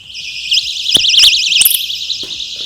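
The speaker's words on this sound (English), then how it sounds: "when there is an attacker, he will just get the alarm, turn it on" A personal safety alarm gives a shrill, warbling electronic blare continuously at close range, wavering rapidly in pitch with a few clicks and knocks underneath.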